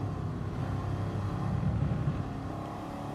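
A mid-engined race car in GT Sport drones with a low engine rumble that swells slightly in the middle, heard steadily from the cockpit with no voices.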